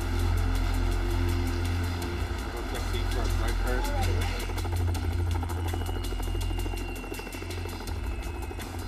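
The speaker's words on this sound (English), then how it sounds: "The helicopter landed as close as it could, but it was still a quarter-mile away." A rescue helicopter sets down close by, its engine droning loudly with a rapid, regular rotor chop throughout, and a voice speaking over the noise.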